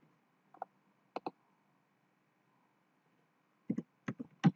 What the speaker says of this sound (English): You have to type this relevant command